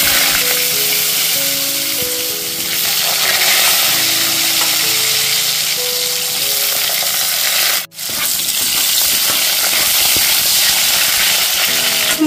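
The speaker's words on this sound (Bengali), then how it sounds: "ওই তেলের মধ্যে আমি কেটে রাখা আলুগুলো দিয়ে দিচ্ছি।" Cut potatoes sizzle in hot oil in a home kitchen, a loud, steady frying hiss that runs continuously with a brief drop partway through, no voices over it.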